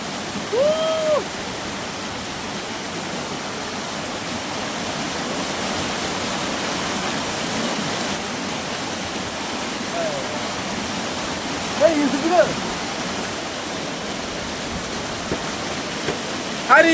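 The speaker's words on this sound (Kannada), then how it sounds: "ಹರಿಯುವ ನದಿಯ ನೀರೆಲ್ಲ ಇವಾಗ ಬಿಡ್ತಾವೋ" Flowing river water rushes in a continuous, fairly loud wash, with a few brief high chirps cutting through near the start and end.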